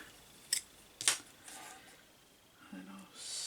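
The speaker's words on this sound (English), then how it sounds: "And I'll snip that there, and I'll snip that one there." Sharp scissors snipping designer series paper while decorating a copper tea tin: two crisp, close snips about half a second apart, followed by faint rustling and handling sounds in a quiet room.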